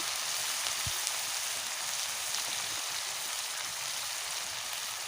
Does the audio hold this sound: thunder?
no